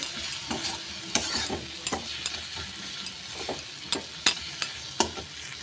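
A spatula scrapes and stirs spices mixed with Kashmiri chilli powder in a sizzling pan for a wedding-style tarka, with repeated sharp strokes over a steady close frying hiss and no voices.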